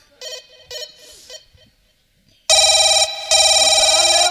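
An electronic telephone ringtone, first faint and broken into a few short trills, then loud continuous ringing bursts with a brief pause between.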